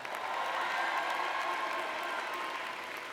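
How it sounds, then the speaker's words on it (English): Graduates and guests applauding at the City Colleges 2017 spring commencement ceremony, a steady, distant wash of many hands clapping in a large hall, fairly faint and even throughout. "Give yourselves another round of applause"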